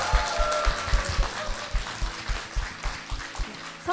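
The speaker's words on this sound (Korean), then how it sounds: "담임 목사님과 교회를 위해서 힘찬 박수 부탁드리겠습니다" A congregation at Gwacheon Yaksu Church in Korea claps, a fairly dense, steady patter with rhythmic low thumps, mixed with a sustained tone, probably music, underneath.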